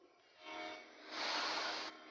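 Train passing in a video game, a broad rushing rumble that swells and peaks midway before easing off, heard alone without talk.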